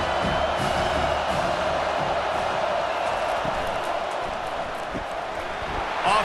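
Stadium crowd at a college football game, a broad, steady wash of cheering and noise heard from a distance, with faint voices mixed in.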